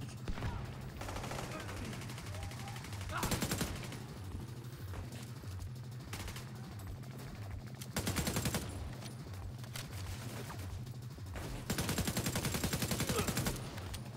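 Gunfire in The Division 2 comes as repeated automatic bursts over a steady rhythmic game background, with louder dense volleys at several points and voices talking at times.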